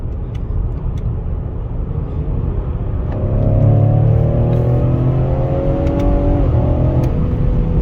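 A 2022 Ford Explorer ST engine revs up steadily, its pitch climbing with a smooth rising whine, then dropping briefly as it shifts via paddle shifters while accelerating hard.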